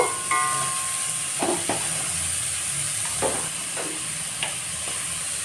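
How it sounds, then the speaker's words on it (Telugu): Four or five large onions fry with turmeric in a pan, giving a steady close sizzle broken by a few scraping stirs and light clinks. No one speaks. "ఒక నాలుగైదు పెద్ద సైజు ఉల్లిపాయలు అన్నమాట ఇది బాగా వేపుకోవాలి"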